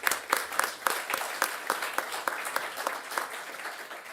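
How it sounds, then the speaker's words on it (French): An audience applauds a performance at the CUBE energy-saving competition event, with scattered, fairly sparse hand claps that stay steady and moderately loud for a few seconds, with no voices over them. "On vous applaudit pour cette performance."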